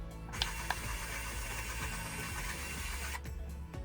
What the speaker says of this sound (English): In automatic mode, a simple press of the button adjusts the jaws to securely hold this piece of wood.